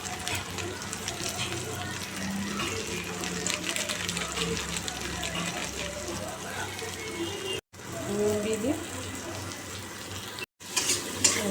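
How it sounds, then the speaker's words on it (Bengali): Spice paste frying in oil for pomfret curry, a continuous sizzling hiss with stirring scrapes, broken by two brief silent gaps; faint background voices are audible. "মশলাটা একটু কষিয়ে নিচ্ছি তেল বেরিয়ে গেছে"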